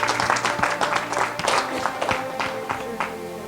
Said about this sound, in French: Alléluia. Acclamons les Seigneur.